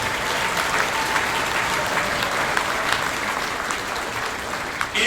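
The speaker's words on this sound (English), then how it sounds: "Let's give you a round of applause right" Steady applause from a large crowd at a sports champions tribute event, dense and sustained throughout without pause.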